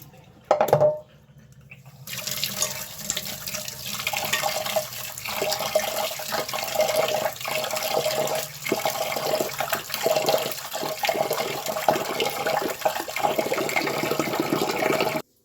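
Water runs continuously into a vessel as grains are washed for pongal, with sloshing and swirling after a brief clatter at the start; no one speaks.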